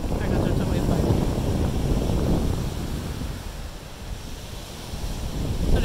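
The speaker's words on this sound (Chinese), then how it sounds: "这边海浪" Ocean surf rolling in beside a long fishing pier on a sunny beach, a continuous windy wash that swells and eases, with wind buffeting the microphone and a voice talking over it.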